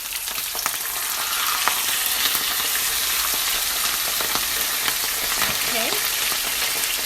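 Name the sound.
fish frying in hot oil for escovitch fish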